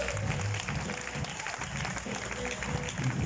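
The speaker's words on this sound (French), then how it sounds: "Acclamons pour notre soeur." A crowd claps at a graduation ceremony, a moderate, somewhat distant applause with murmuring voices mixed in, holding steady without a clear fade.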